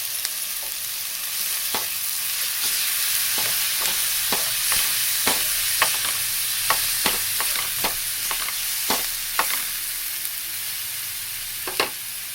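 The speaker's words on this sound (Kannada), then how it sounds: "ಸ್ವಲ್ಪ ಶುಂಠಿ ಬೆಳ್ಳುಳ್ಳಿ ಪೇಸ್ಟ್ ಹಾಕ್ಕೊಂಡು ಹುರ್ಕೋಬೇಕು." Ginger garlic paste frying for paneer ghee roast, a steady loud sizzle with repeated sharp scraping clicks from stirring spaced through the whole stretch, no voices.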